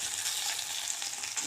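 Small diced potatoes dropped into hot oil sizzle and crackle steadily in a pan, close and continuous with light stirring scrapes.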